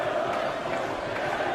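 Appreciative darts crowd at the Winter Gardens during the 2013 World Matchplay final between Taylor and Lewis, a dense steady roar of massed voices with a sustained chanting tone, continuous and evenly loud throughout.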